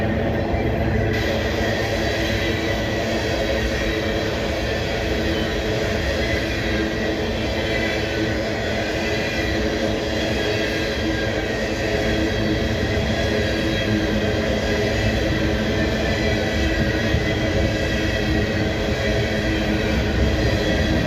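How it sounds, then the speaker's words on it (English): A coal train led by three locomotives rolls past, a loud, steady rumble of engines and rail cars that holds unbroken throughout without fading. "SCWS coal train"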